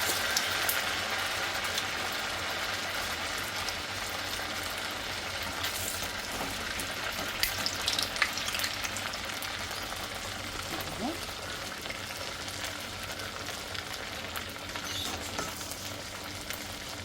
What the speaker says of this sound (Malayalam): നല്ല തിളച്ച എണ്ണയിലിട്ട് വെക്കണേ